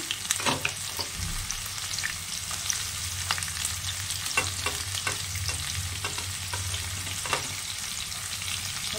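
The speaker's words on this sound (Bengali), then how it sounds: "ভালো করে ভেজে নিতে হবে, এটা লাল করে" Chopped onion, garlic, ginger and green chilli fry in oil in a pan for an egg curry, a continuous close sizzle broken by repeated clicks and scrapes of a spatula stirring.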